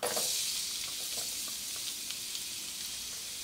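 Garlic sizzles in hot olive oil with a bright, hissing fry that hits hardest at first and then settles into a steady crackle with scattered pops.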